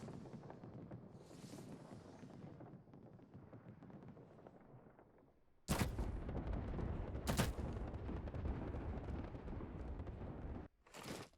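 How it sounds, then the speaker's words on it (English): Gibraltar's airstrike in Apex Legends: a run of heavy explosions lands after a rumbling lead-in, loud thumping blasts with two sharp peaks and a final burst, and no talk. "Signaling an airstrike."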